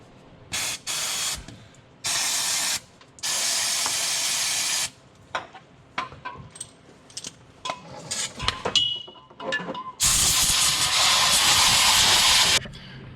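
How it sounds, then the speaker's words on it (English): Brake cleaner hisses from an aerosol can onto a Kioti tractor in several short bursts and then one long spray, loud and close, broken by clattering and handling noises in between. "I'm going to hit this hole with some brake cleaner, scrub it off with a rag"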